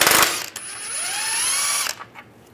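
A socket wrench with a 13 mm socket loosens steering rack bolts on a 1998–2010 Volkswagen Beetle. Close, loud mechanical whirring runs for about two seconds with a rising tone, then ends in a couple of clunks.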